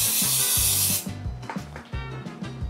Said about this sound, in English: I'm just gonna spray it here.